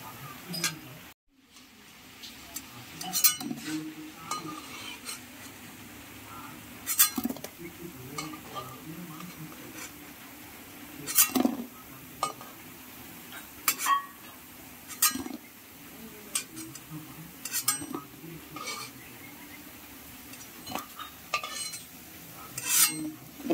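Brahmi leaf fritters frying in a pan while they are turned and lifted, a soft sizzle beneath scattered clinks and scrapes of a utensil against the pan.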